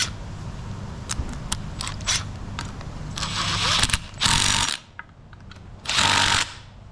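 Impact wrench used on a Jeep XJ during a V8 engine swap, sounding in short bursts: a few sharp clicks and rattles, then two longer loud buzzing runs separated by a pause.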